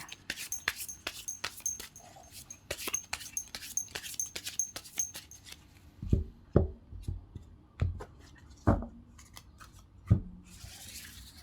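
Tarot cards are shuffled by hand, with a quick run of crisp riffling clicks followed by a few louder, separate slaps as cards are drawn and laid down, close and with no talk.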